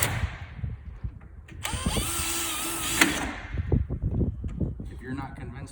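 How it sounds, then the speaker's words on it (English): Power drill driving a screw into a greenhouse screen door, one loud whirring burst lasting about a second and a half, surrounded by handling clatter and someone talking. "I'm going to go ahead and drill these other 2 screws."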